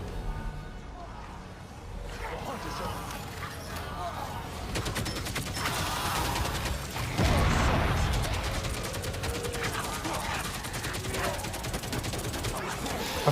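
In Marvel Rivals, Punisher blasts his shotgun amid a busy firefight, sharp bursts of gunfire mixed with other weapons and game clatter, growing louder toward the end.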